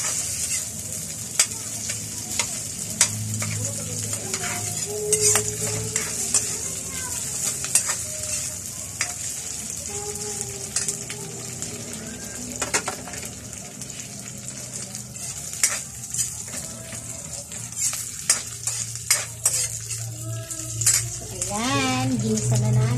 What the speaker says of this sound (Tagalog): Ginisa na natin.